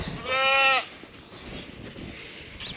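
A goat on a farm lets out a single loud, wavering bleat, followed by quieter rustling and faint farmyard background.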